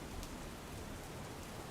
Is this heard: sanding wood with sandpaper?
no